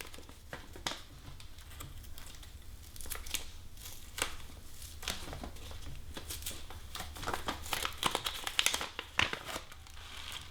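A paper seed packet holding heirloom vegetable seeds about 87 years old is torn open from the bottom, giving close, quiet crinkling and tearing with scattered soft rustles and pats.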